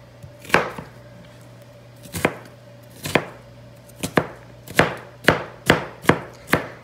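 Knife chopping red onions on a board, a run of about ten sharp, distinct chops, sparse at first then speeding into a steady rhythm, close and clear with a low steady hum beneath.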